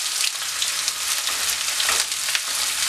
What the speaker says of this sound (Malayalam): കടുക് കൊണ്ടു വരുമ്പോൾ നമ്മളിവിടെ കട്ട് ചെയ്ത് വെച്ചിരിക്കുന്ന സവോള ചേർത്ത് കൊടുക്കുക.